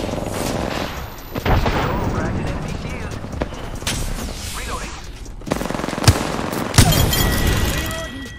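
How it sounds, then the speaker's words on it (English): A grenade explodes amid gunfire in a shooter video game, with rattling bursts of shots and sharp louder reports near the end, mixed with game sounds and voices. "Grenade flung."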